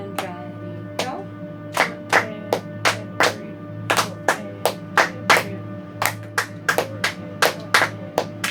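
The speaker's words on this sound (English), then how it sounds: "I'm just gonna clap a steady beat with you while you're clapping the rhythm" Two people clap hands together, one keeping a steady beat while the other claps a rhythm, producing crisp, close claps in an evenly spaced pattern with occasional doubled hits over a low background hum.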